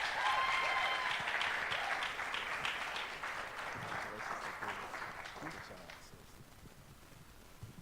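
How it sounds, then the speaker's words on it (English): Audience applause at a kids' graduation ceremony, a dense steady clapping from a crowd that starts loud and gradually fades toward the end, with some voices mixed in. "please give these guys a round of applause"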